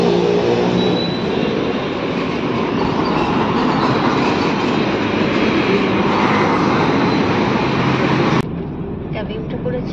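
A metro train runs at a metro station in Hyderabad, a loud, steady roar and rumble close by throughout, dropping abruptly to a quieter hum near the end.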